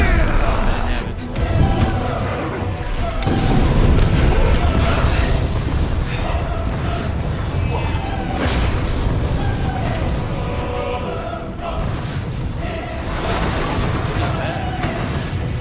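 Rocket launcher blasts boom in Resident Evil 2, with heavy rumbling explosions and crashing bursts sustained loud throughout amid game noise, while someone talks briefly over them.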